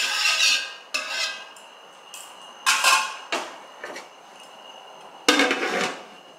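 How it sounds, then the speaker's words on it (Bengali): Pulao being stirred in a pot, with a spoon scraping and clanking against the metal in several separate strokes, followed by a lid set down with a sharp clang, close up. "এবার ভালো করে নেড়ে চেড়ে আমি এটাকে ঢাকনা দিয়ে দেবো।"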